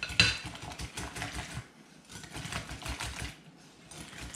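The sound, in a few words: whisking milk and flour batter with a whisk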